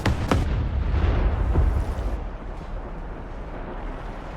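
Gunfire and explosions in the War Thunder tank game: a couple of sharp, heavy booms hit early, then fade into a low rolling rumble that lingers at a steady moderate level.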